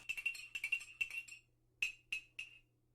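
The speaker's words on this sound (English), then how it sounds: "Don't forget to stir them." Drinks stirred in glasses, spoons clinking against the glass in a quick burst of taps followed by three separate clinks, close and clear in a quiet room.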